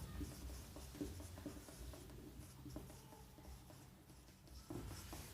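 Marker or chalk writing on a board during an engineering mechanics lesson, a steady scratchy rubbing of strokes that runs continuously and close by with no talk over it.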